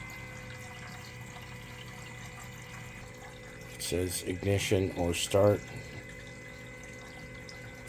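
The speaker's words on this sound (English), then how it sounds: "You can hear the coolant circulating through the reservoir." Coolant circulating through the reservoir of a diesel water heater makes a soft gurgling, trickling flow over a steady low hum. A person talks briefly in the middle.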